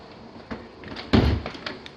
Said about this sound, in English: Closet door